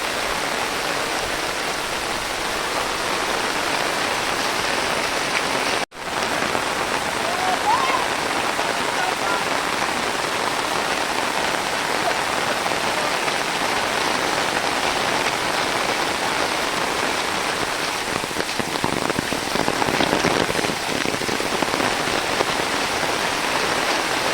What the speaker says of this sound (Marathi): पाऊस भरपूर लागता